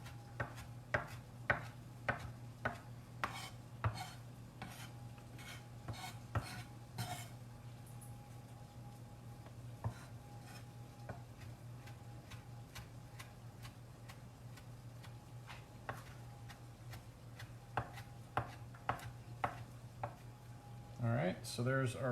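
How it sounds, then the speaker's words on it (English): A knife chops parsley on a cutting board in a steady run of light, crisp taps, spaced irregularly over a low hum, with a faster flurry of chops near the end. "use the entire knife blade to chop whatever herb is underneath"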